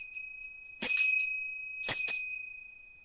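Altar bells rung during the Eucharistic prayer at Mass, two bright jingling shakes about a second apart, clear and close, each fading quickly with no voices.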